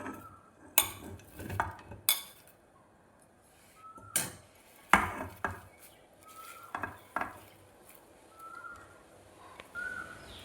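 Chopped spinach tipped into cooked lentils in a pressure cooker pot, heard as scattered spoon clinks, scrapes and a few sharp metallic knocks against the pot, with quiet gaps between and no talking.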